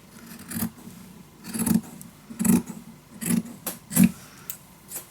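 Paper for a mini album being cut in half, five or six short, rasping cuts spaced about a second apart, close and fairly loud with quiet gaps between.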